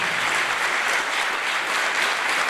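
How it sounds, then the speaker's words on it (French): Crowd at a public political meeting applauds steadily, a dense, even wash of clapping that runs the whole time without a break. "Ils méritent vos applaudissements."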